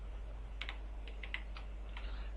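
Keys clack on a computer keyboard while a password and captcha are typed, a quiet, irregular run of light taps with a steady low hum underneath.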